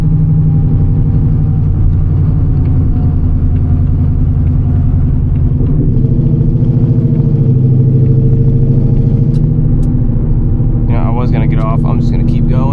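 A 900 hp Whipple-supercharged Ford Mustang S650 gives a loud, steady low rumble while driving, with someone talking throughout over the engine.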